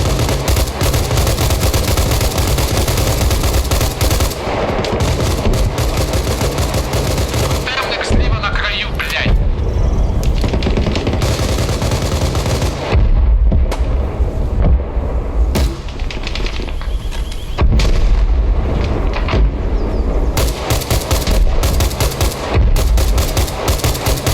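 Sustained gunfire in Arma Reforger, dense bursts of rapid shots and heavy booms nearly continuous and loud throughout, with a voice talking intermittently underneath.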